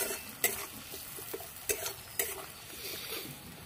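Spice paste with salt and turmeric is sautéed in oil for a fish curry, giving a faint, steady sizzle with a few soft scraping stirs against the pan; no voices.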